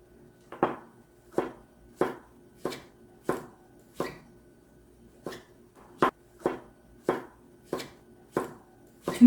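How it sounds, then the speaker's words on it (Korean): Knife slicing halved matsutake mushrooms on a board for Korean mushroom soup, about thirteen crisp, evenly spaced chops, close and clear with no talking. "송이를 썰어 보겠습니다."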